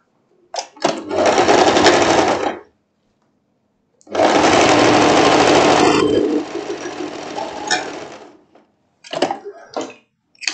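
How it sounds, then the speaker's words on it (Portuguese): A sewing machine stitches the side seams of a dress in three loud, close bursts of rapid whirring. Each burst is separated by brief silences, and the last burst is shorter and choppier. "Então, as duas laterais você vai costurar, não é?"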